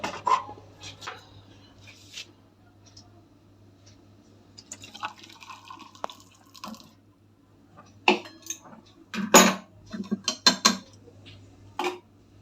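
Tea poured into a cup at home, with a thin trickle of liquid among clinks of cups and utensils, then louder clattering bursts near the end, close by and without talk.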